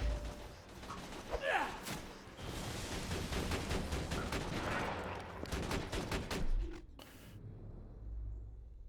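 Rapid pistol gunfire in Borderlands 2, a dense burst of shots fired close and loud for several seconds, with a quieter tail at the end.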